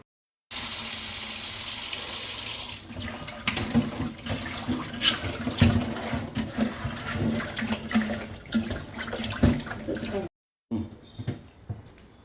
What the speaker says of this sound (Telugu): దీన్ని ఇప్పుడు కడుగుతాను ఫ్రెష్గా ఉంది బొచ్చేపలు